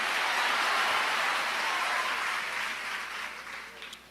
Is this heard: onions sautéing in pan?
no